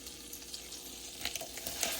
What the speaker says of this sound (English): so we're melting the butter. I'm gonna add in the shrimp.